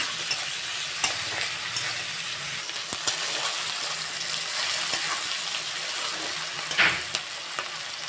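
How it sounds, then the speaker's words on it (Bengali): Onions frying in a pan for a fish curry, a steady close sizzle broken by occasional sharp clicks and spatters as they are stirred. "পেঁয়াজটা আমি লাল করে একটু ভেজে নেব।"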